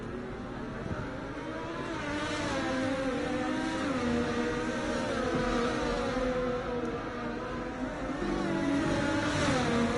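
Race cars in a racing video game rolling through a formation lap at Portugal, a steady blended engine drone with shifting harmonic tones that stays continuous and fairly loud throughout.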